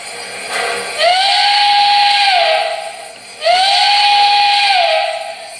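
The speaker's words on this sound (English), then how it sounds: "here's the whistle" Two long steam whistle blasts from an MTH Central Pacific Jupiter model locomotive, each rising to a steady shrill tone before trailing off, with a soft hiss between them, close and loud.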